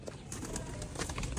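Faint, soft cooing of pigeons kept at a rooftop pet house, a few low murmuring calls repeating quietly against light background noise.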